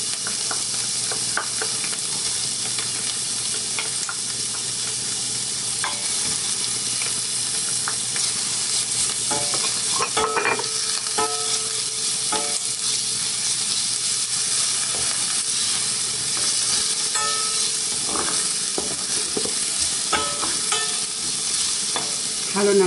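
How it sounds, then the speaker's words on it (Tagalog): Garlic being stirred and sautéed in a pan, a continuous soft sizzle and hiss with intermittent scraping clicks from the utensil scattered across the stretch, close by and without voices. "Halo natin ang bawang."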